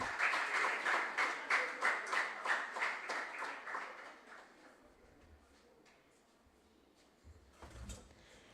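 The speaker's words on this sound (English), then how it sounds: "Don't stop clapping till he comes." Audience applause at a regional junior science and maths quiz qualifier, loud and rhythmic at first with pulsing waves of clapping, then thinning out to scattered claps and low room rumble, with a brief bump of noise near the end.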